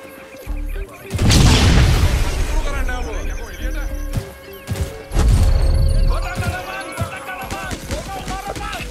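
Two heavy bomb blasts in a video game, each a loud booming crash with a rumbling tail, set among clattering game effects while someone talks.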